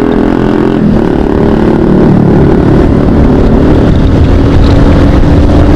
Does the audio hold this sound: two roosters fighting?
no